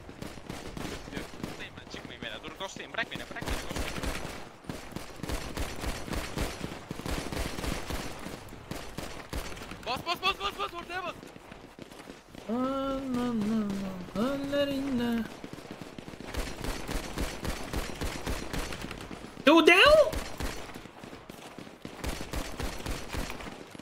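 Rapid bursts of gunfire crackle in a roleplay video game shootout, with repeated volleys of shots coming in clusters over about twenty seconds, while a voice talks at moments in between.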